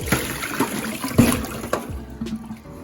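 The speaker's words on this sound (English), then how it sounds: "I'm gonna wash it in the water." Water sloshes and splashes in a container as okra is washed, with intermittent knocks and trickles, close and moderately loud.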